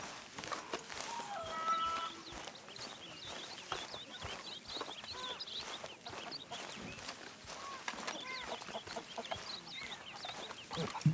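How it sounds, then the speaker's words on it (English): Chickens cluck and chatter steadily around a camp in Red Dead Redemption 2, a busy flock of overlapping clucks and short calls with footsteps mixed in. "Buck, buck, buck, chickens."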